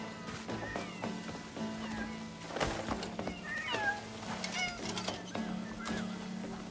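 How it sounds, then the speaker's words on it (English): Several cats meowing in the video game Crimson Desert, with short, repeated mews overlapping from different directions against a steady low hum and quiet background ambience. "Oh my god, so many cats! So many cats!"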